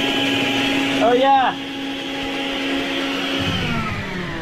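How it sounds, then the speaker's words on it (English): A vacuum cleaner runs aboard a sailboat at anchor, a steady droning motor whine heard up close, while a person briefly speaks over it. "I can run my vacuum out on anchor."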